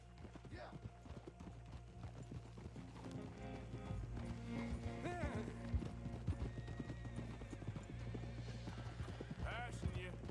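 Horse hooves clip-clop steadily in Red Dead Redemption 2 as a horse is ridden toward the manor stables, with neighs and whinnies, game music and voices talking over the rhythmic hoofbeats.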